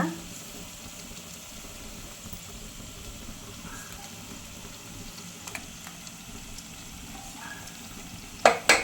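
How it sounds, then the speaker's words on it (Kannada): Ground masala paste added to a hot pan for a Kannada kuttu curry to go with ghee rice, giving a soft, steady sizzle with faint stirring, then a few louder clanks at the end. "ಈಗ ರುಬ್ಬಿಟ್ಕೊಂಡಿರೋ ಮಸಾಲೆನ ಹಾಕೋಣ"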